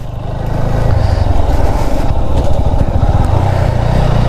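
A motorcycle labours up a steep hill road toward Mirinja Valley in first gear, its engine note loud, steady and close throughout, with no talk.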